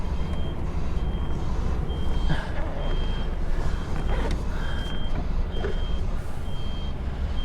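A UK HGV lorry reverses a trailer, its reversing alarm beeping in a regular repeating pattern over the loud, steady rumble of the diesel engine and air-brake hiss.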